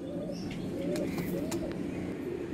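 A pair of young caged Golden Eyes pigeons, one male and one female, give low rolling coos up close, a couple of short phrases over a steady murmur with a few sharp clicks.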